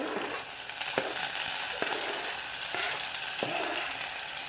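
Carrots and tomatoes frying in hot oil: a steady close sizzle with a few sharp taps of a utensil against the pan spaced through it, no voices.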